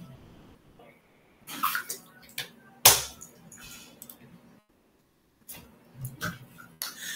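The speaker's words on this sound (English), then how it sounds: "just give me one moment while I have a swig of water." A person takes a swig of water during a lecture pause: faint glugs and swallows, a sharp clunk as a bottle or glass is set down, then a few soft handling noises, all with no talking.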